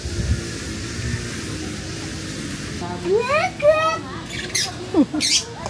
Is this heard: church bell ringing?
no